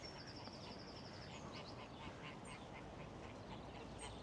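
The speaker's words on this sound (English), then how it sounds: "The wee ducks are in front." Small ducks quacking outdoors at Waterfoot in spring, soft repeated calls scattered through a steady background of wind or water noise, fairly distant and faint.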